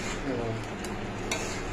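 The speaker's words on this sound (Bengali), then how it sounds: "এখন কষানো হচ্ছে মাংস" Meat sautéing in a pan gives a steady close sizzle, with scraping stir strokes and light clinks against the pan running through it.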